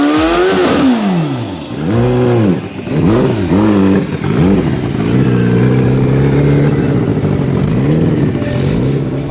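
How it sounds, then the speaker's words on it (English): A turbocharged motorcycle engine revving on a dyno, loud and close, rising and falling through several sharp throttle sweeps before holding a steady high drone. "The harder you rev it, the more power it makes."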